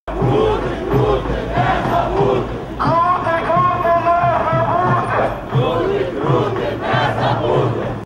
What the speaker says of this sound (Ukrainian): Вони також вигукували гасла